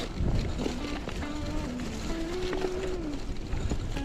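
Steady wind buffets the microphone during a bike ride on the Île de la Barthelasse, a continuous rushing roar with faint whistling tones riding over it, with no voices.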